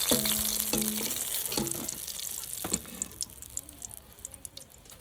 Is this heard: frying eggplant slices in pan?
yes